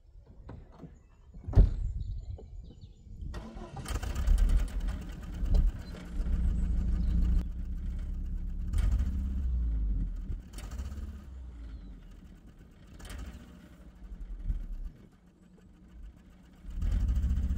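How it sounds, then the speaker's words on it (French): A car engine running with a faulty, noisy exhaust: a low, uneven rumble that swells and fades, broken by clunks and rattling bursts, heard from close by without talking. "vous avez sûrement entendu un sale bruit provenant du pot d'échappement"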